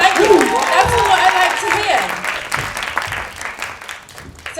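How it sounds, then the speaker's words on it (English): Applause and cheering from a festival audience fill the space, loud at first and slowly thinning out, with a voice talking over the clapping. "Please keep up the woos and the cheers and the high fives and most importantly the applause for all the projects."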